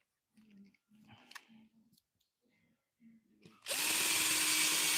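A power drill driving into a screw on a roller skate plate. It starts after a few quiet voice fragments and then runs as a loud, steady whir for the last second or so.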